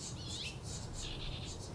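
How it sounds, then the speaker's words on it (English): Baby birds call while being fed outdoors, giving high, thin chirps in quick repeated bursts over a steady low background rumble, fairly faint. "sorry, I'm distracted by this bird who's feeding its babies."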